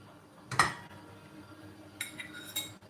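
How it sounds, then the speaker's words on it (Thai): Serving spoon clinks against a plate while food is scooped in a Thai home kitchen, two short bright metallic clatters separated by a quiet pause, close and moderately loud. "ตักใส่จาน แบบนี้เลยนะคะ"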